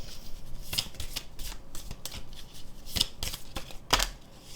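Tarot cards being shuffled before a reading: a string of soft, papery riffling bursts and shuffles at moderate volume, with no talking.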